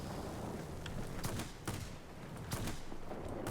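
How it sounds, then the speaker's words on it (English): Short tapped bursts from the cannons of an XP-58 fighter aircraft in a combat flight game crackle over a constant engine roar, with a few sharp bursts spaced irregularly at a faint overall level. "here I'm not holding down the cannon, I'm actually tapping"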